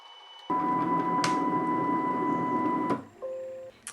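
A home-built CNC machine drives its Y-axis toward the front with a steady motor whine, then halts abruptly as the limit switch trips; a brief click and lower mechanical hum follow after the stop.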